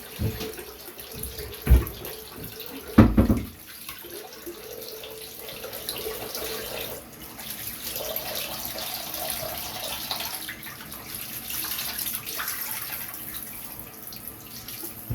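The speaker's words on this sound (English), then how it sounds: "go ahead and rinse off the dome here" Tap water runs to rinse a shaving dome. A few sharp knocks and splashes come first, then a steady, close stream of running water continues alone to the end.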